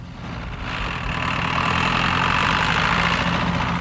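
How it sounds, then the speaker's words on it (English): A farm tractor engine runs steadily and loudly as it climbs a one-foot ramp, a broad rumbling drone that swells in the first half second and then holds even, with no voices. "The tractor runs up a 1-foot ramp, not unlike a depression or uneven ridge in a field next to a levee."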